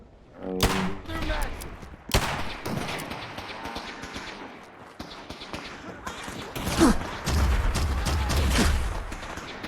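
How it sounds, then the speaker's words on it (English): Energy rifle shots in Fallout 4, a few sharp bursts of gunfire punctuating game sounds and effects, with a voice murmuring faintly in places. "this energy rifle is just a life taker."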